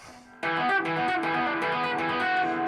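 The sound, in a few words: electric guitar played dry with high gain distortion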